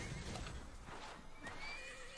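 A horse in the Disney Infinity video game's Wild West setting gives a single whinny over a busy game background, with hoof clip-clops mixed in; no one speaks.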